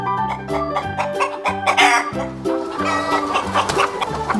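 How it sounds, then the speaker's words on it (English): A farm chicken clucks in a quick series of short, bright calls, close and clear, repeating in an uneven rhythm for a few seconds. "Chicken."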